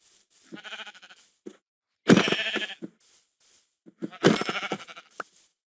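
Sheep in Minecraft bleat three times in short, wavering calls, spaced apart with quiet gaps between them.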